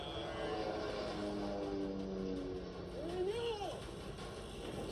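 A plane flies overhead to drop cash in a parachuted briefcase, heard as a faint, steady distant drone, with a brief voice sliding over it partway through.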